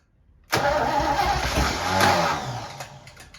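A 1960 Chevy Apache truck engine with a bad starter turning over, a loud grinding crank that kicks in abruptly after a brief quiet and drones on for about three seconds.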